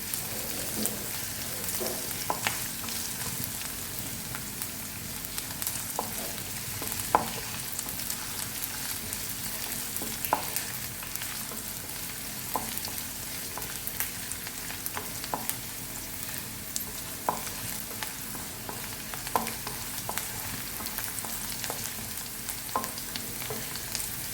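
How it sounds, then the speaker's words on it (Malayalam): Green chilies, ginger and garlic fry in hot oil while a spoon stirs them, a steady close sizzle with scattered scraping clicks from the pan running throughout, no voices. "പച്ചമുളകും ഇഞ്ചിയും വെളുത്തുള്ളിയും നല്ല രീതിയിൽ മൂക്കുന്നത് വരെ ഇളക്കിക്കൊണ്ടിരിക്കുക."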